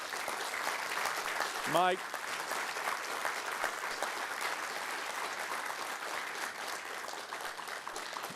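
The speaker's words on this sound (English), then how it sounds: "Y'all need to give him a round of applause." Audience at a House Appropriations Committee meeting bursts into sustained applause that carries on steadily, while a voice briefly speaks over it near the start.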